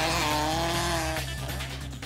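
A loud rally car engine roars at high revs close by, flat out over a crest at a national rally championship stage, its pitch dropping as it passes, with gravelly tire noise underneath.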